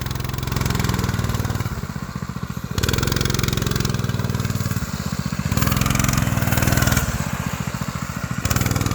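Clutched Coleman B200 mini bike engine pulling up a small hill, a loud, close, rapidly pulsing small-engine buzz that surges and eases in repeated waves as the throttle rises and falls.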